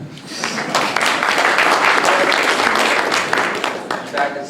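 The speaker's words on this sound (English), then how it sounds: "Give yourselves a hand." Dense, loud applause from a leadership debate audience in Calgary's Signal Hill, steady throughout and tapering slightly at the close.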